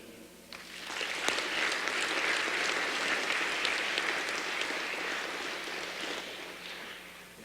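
An audience at a high school Veteran's Day assembly claps to welcome a speaker. The applause rises quickly to a steady, even roar that stays close and full for several seconds.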